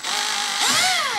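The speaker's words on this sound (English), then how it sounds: "This is just a guide for the step drill." A step drill bores a hole in a part for a 48-volt LiFePO4 battery build, giving a steady high whine that bends in pitch midway as the bit bites, close and alone.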